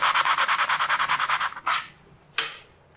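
Round sanding machine working a wall during paint preparation: a rapid, regular rubbing pulse for about a second and a half, then two separate short scraping strokes, close and fairly quiet.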